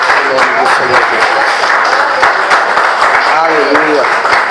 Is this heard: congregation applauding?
yes